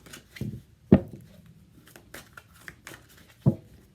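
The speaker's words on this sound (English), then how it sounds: "I had to give that a good shuffle." Tarot cards shuffled by hand during a reading, heard as a few soft riffling and slapping bursts with quiet pauses between, close and fairly faint, no talking.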